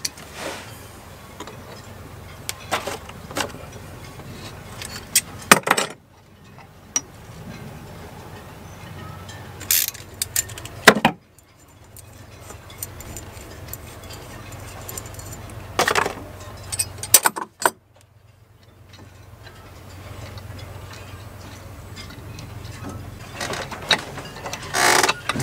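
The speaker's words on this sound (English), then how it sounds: "So as I screw down the nut and washer onto this yoke" A nut and washer are screwed down onto an injector yoke on a Volvo Penta boat engine, heard as close, intermittent metallic ratchet clicks and clinks with quiet gaps in between.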